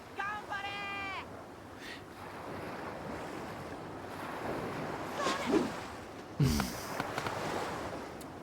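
Ocean surf in Yakuza 3 Remastered washes steadily under wind noise, with game voices and brief effects breaking in over the continuous roar.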